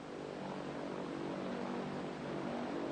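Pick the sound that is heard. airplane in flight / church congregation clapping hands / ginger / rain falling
airplane in flight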